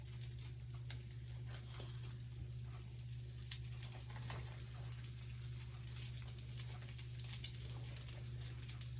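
Sliced eggplant crisps in a pan, a faint, steady frying hiss with scattered tiny pops under a low constant hum.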